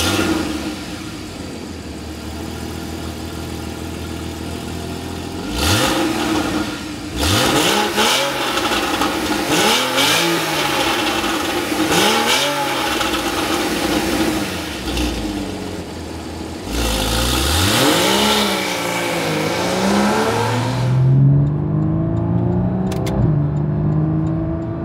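A Porsche Cayman engine fires up and revs repeatedly, with rising and falling sweeps through several throttle blips, then settles toward a steadier idle near the end, loud and close with no talking.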